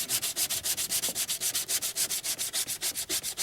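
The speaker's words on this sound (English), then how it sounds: "let me get sanding" Steady back-and-forth scraping of 320-grit sandpaper on body filler on a car, in a fast even rhythm of repeated strokes, close and alone without talk.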